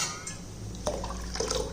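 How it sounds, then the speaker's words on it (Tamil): Rice and toor dal being washed in a bowl of water in a home kitchen, with soft splashing, sloshing and dripping that swells near the end, close and fairly quiet with no talking. "இதை தண்ணி ஊற்றி நல்லா கழுவிட்டு ஒரு 1/2 மணி நேரம் ஊற வச்சுக்குருவோம்."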